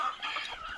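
Country free-range chickens on a farm give a brief burst of clucking, fairly faint and from a little distance, with no voices.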